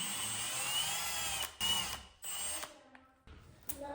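A power drill drives a screw into a wall stud to mount a handrail bracket, whirring in several short bursts with brief pauses and a final quick spin, close and fairly quiet.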